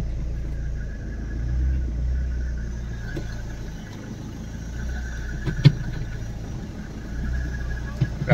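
Tata Vista car engine idling steadily after a clutch slave cylinder replacement, a close low rumble throughout with a few faint clicks and knocks near the end.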